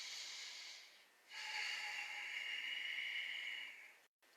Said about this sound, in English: pausing here for a few deep, powerful breaths